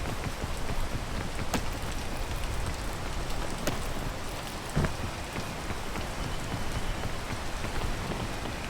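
Steady rain patters and hisses continuously in the video game Ascent, a dense even wash of drops with a few sharper splashes, and no voices.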